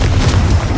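A Confringo blasting spell goes off in Hogwarts Legacy, a loud, dense boom that fills the whole short moment with low rumble and no pause.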